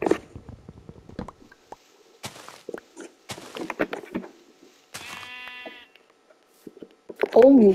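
Sheep in the Minecraft video game bleat briefly amid game footsteps and clicks, with a person talking intermittently throughout.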